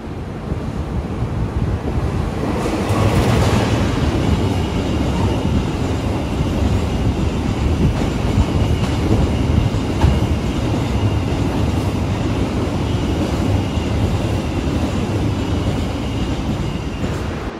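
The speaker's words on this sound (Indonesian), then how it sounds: "akan ada kereta yang melintas langsung nampaknya" A train rumbles straight through a station without stopping in a long, steady roar with rattling wheels, heard up close from the platform with wind buffeting the microphone throughout.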